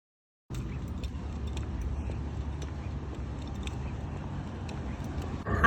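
Steady interior rumble of a car driving, a continuous low road and engine drone that holds evenly throughout with faint rattles, ending in a short louder bump.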